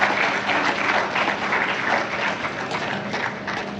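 An audience at a talk applauds steadily, a dense wash of many hands clapping at once, fairly loud and continuous without voices.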